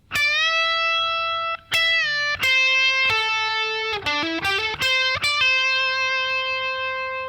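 Electric guitar plays a solo passage, sustained distorted notes with bends and a quick run of picked notes in the middle, loud and close with no talking.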